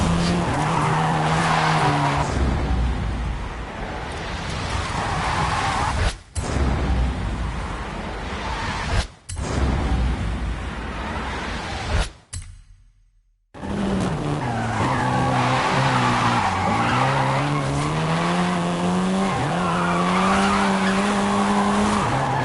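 A seventh-generation Volkswagen Golf R drifts in the racing game Forza Horizon 5. Its engine drones loudly as the tires squeal and skid almost continuously, with a few abrupt brief cutouts midway before the squealing resumes.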